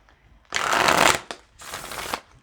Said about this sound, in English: I'm shuffling from the I Love You But deck, which has almost 300 unique messages